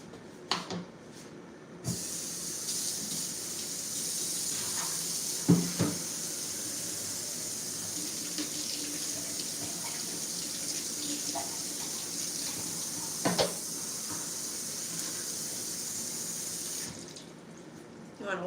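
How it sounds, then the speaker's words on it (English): Kitchen sink tap running for washing up, a steady close hiss of flowing water lasting most of the stretch, with a few knocks and clunks of items in the basin before it shuts off. "let's put this in the sink real quick"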